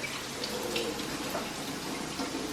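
Liquid drained from a can of sliced carrots, a continuous close trickling and splashing stream with no talking.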